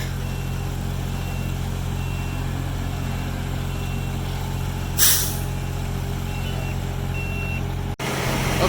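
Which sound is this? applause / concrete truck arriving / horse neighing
concrete truck arriving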